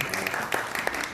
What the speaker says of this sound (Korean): 동찬 박수를 부탁드리도록 하겠습니다.